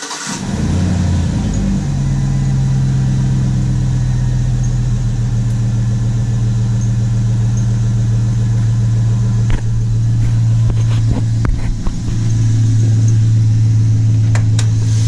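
A 2005 Chevy Silverado engine idles steadily and loud up close, a constant tonal whine from a failing rebuilt power steering pump riding over the hum, with a few clicks near the end.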